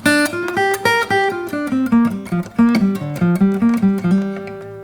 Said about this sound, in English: if we were to play the minor pentatonic over this song,